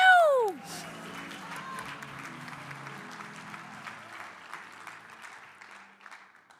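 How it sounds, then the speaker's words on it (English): A crowd applauds Mr. Nucci at the closing session of the Tom James International Meeting. A brief descending electronic whistle opens the clip, then steady, moderately loud clapping fills the hall with faint voices underneath. "Another round of applause for Mr."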